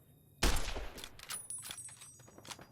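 Gunfire in Fallout: New Vegas, a sudden loud burst of several shots followed by rapid fading reports and scattered echoing cracks.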